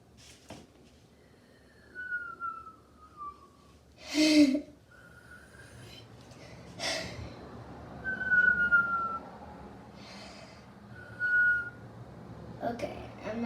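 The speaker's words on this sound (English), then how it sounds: "Do you know, guys, I can whistle?" A young girl whistles indoors in a few short, separate bursts of thin tone, fairly close, with breaths and quiet room noise between them.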